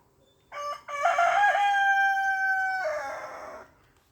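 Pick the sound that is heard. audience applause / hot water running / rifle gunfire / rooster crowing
rooster crowing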